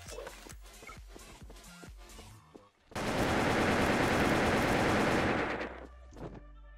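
Automatic weapon fire in the online shooter Wolfteam: scattered single shots first, then a loud, sustained burst of rapid gunfire lasting a few seconds before cutting off.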